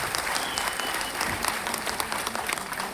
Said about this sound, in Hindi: जोरदार तालियां हमारे स्टार डायमंड्स